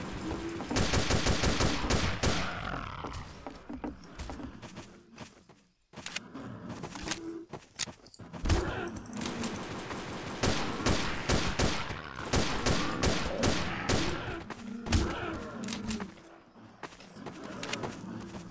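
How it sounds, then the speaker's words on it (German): Gunfire from the video game Codename Cure: loud, dense bursts of automatic rifle fire and rapid shots crackling almost continuously, with one short pause, and no talking. "Ich habe zweimal geschossen."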